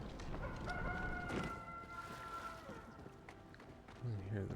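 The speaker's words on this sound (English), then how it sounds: "And hear the rooster crow." Rooster crowing in the Palia video game, a mid-level call with harmonic tones drawn out over a few seconds, set against a busy ambient game backdrop with faint speech nearby.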